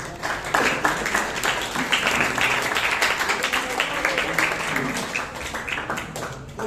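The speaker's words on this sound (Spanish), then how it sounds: "por favor, aperturar una vez más este debate con fuertes palmas" A school debate audience of secondary students breaks into loud, sustained applause, a dense wash of many hands clapping together with a voice faintly underneath.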